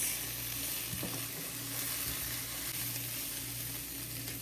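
Cabbage, carrot and capsicum stir-fried in a hot pan: a steady, loud, close sizzle runs throughout, with a few soft stirring knocks and no voice.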